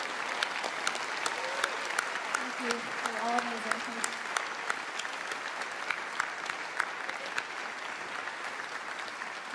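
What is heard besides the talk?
audience applause for a singer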